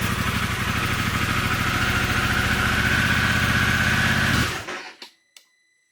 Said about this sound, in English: you're ready to head out for a ride on your Pan America, you go to fire it up